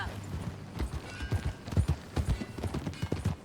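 Horse hooves clip-clop in the video game Red Dead Redemption 2, a steady, fairly close walking rhythm of soft thuds heard alone at low level.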